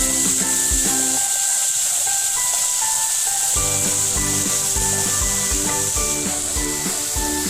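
Garlic, green chilli and coriander paste sizzles steadily in hot oil, a constant bright hiss with occasional pops. Light clinks and scrapes of a utensil stirring the pan sound over it.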